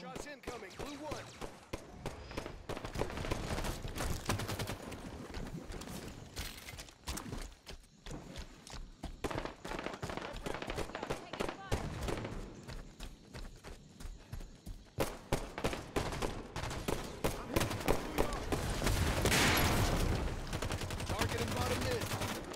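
Gunfire in a Halo 5 capture-the-flag multiplayer match, with sustained rapid bursts of loud, close shots running almost throughout, and voices talking over the action at times.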